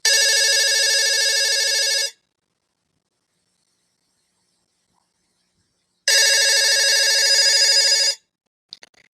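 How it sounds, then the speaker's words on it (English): A telephone rings in two long, loud electronic bursts of about two seconds each, separated by a silent gap, clear and close with no voices. "That was a phone."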